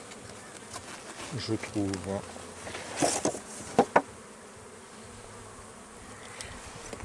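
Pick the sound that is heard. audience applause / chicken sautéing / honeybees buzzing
honeybees buzzing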